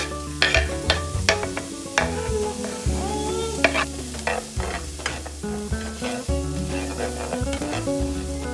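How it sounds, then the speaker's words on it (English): Onion sizzles in hot oil in a pan, a continuous frying crackle with frequent spatula scrapes and clacks from stirring, close and fairly loud. "we're going to add oil to a pan and add the onion"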